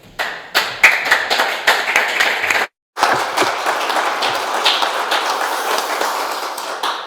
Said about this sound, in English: Thank you to Mark to start the clapping off